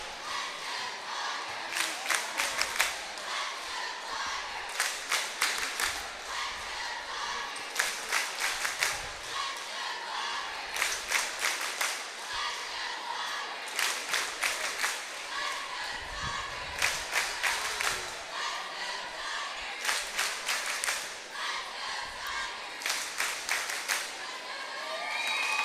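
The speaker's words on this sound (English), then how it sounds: "This crowd is fired up." Crowd at a high school basketball game cheering, with roaring surges and rhythmic clapping bursts repeating across the stretch and a spoken voice underneath.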